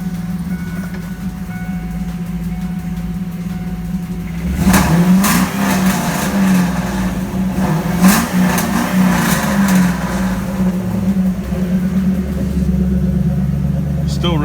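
A 1996 Ford Mustang Cobra fitted with SVO sidepipes, with exhaust also routed through SLP mufflers, idles with a low, steady drone and then revs hard several times, producing loud, crackling bursts.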